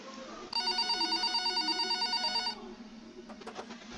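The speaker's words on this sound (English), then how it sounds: "the phone on the counter rang." A telephone on a counter rings with a bright, buzzing electronic trill for about two seconds, then cuts off abruptly, leaving a quiet room with a few faint clicks and taps.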